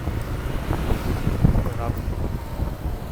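Yamaha Nmax 155cc scooter on the move, a low engine hum mostly buried under heavy wind buffeting on the microphone, with someone talking over the ride.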